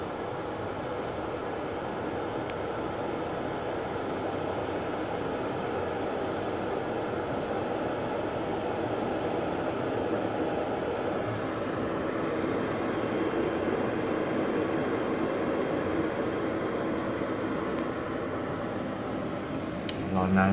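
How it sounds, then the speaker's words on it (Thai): A steady, broad rumbling roar holds for about twenty seconds, like a BTS Skytrain rolling past at a moderate distance in Bangkok, with a voice talking faintly underneath. "รถไฟฟ้ากำลังข้ามมาพอดี"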